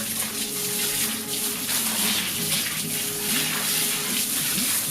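Water pours and splashes over a dog during a flea and tick bath, a close, continuous gushing stream with shifting splashy tones as it runs over the fur.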